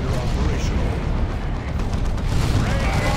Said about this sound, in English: Going to get hit by a Melta Bomb, maybe take some missile shots.